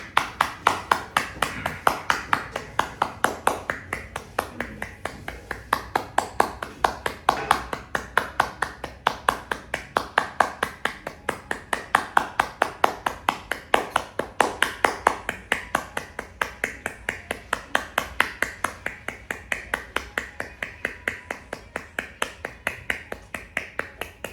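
During a breathing exercise, a person claps hands in a steady, rapid rhythm for a long stretch, close and clear, with a voice speaking over the clapping at times.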